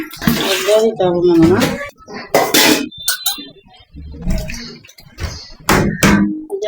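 Chicken liver being rinsed under running tap water in a home kitchen, a steady splashing flow heard close up beneath frequent conversational talk.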